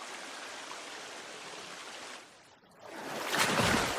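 Water rushes in The Forest video game, a steady broadband stream that dips briefly midway, then surges back louder and fuller near the end.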